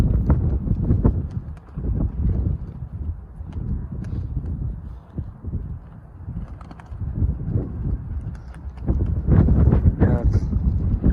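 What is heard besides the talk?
wind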